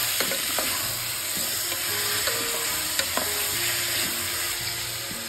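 Chicken coated with turmeric, coriander powder and salt fries in hot oil inside a pressure cooker, a continuous close sizzle broken by repeated spoon clinks and stirring scrapes, with no talk.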